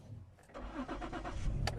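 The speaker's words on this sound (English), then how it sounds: "For that test, start the car" A car engine cranks and catches during a routine vehicle inspection, a short burst of starter whir settling into a close, steady idle rumble with no one talking.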